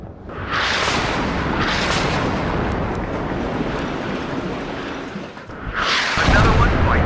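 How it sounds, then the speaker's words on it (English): Explosions from the video game WARNO boom in a loud, sustained roar, with heavy bursts near the start and a fresh blast at the end over a constant rumbling background. "The explosions and all that kind of stuff, top notch."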